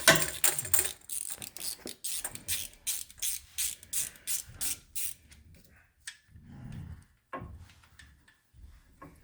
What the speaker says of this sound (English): I'm just undoing the fasteners for the chain guide.